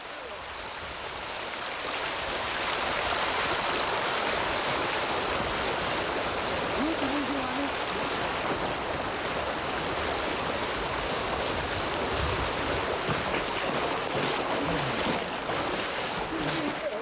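A Himalayan river rushes in a steady, loud, broadband roar of flowing water, unbroken and close, with no voices.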